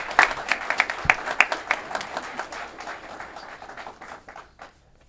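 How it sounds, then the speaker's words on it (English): An audience at a live Bilter Road development project announcement in Aurora claps as two guests walk down. The applause is dense at first, then thins and fades out over about five seconds. "Let's give them a round of applause as they make their way down."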